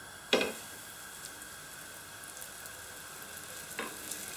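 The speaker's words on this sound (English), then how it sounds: "Use the biggest ones first, get them sort of cooking." Flour-coated beef meatballs with cumin and coriander dropped into a hot pan, with a sharp sizzling burst as one lands, a quieter hiss of frying, and a second burst near the end.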